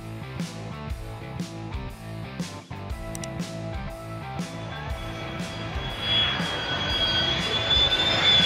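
A fighter jet roars in low overhead, the engine noise swelling from a distant rumble into a loud, close, rising whine that fills the end of the pass.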